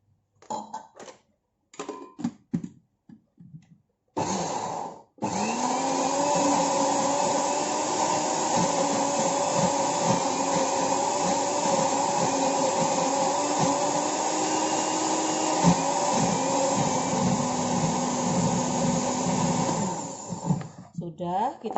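An electric kitchen blender whirs steadily for about fifteen seconds, grinding chilies with a little drinking water, loud and close. Handling clatter and brief pauses come before it, and the motor winds down at the end.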